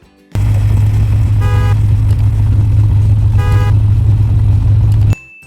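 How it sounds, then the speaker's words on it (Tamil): A car engine hums steadily and loudly throughout, with two short horn toots partway through; no voices. "இது ஒரு கார்"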